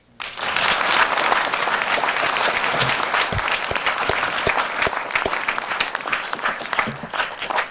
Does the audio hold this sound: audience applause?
yes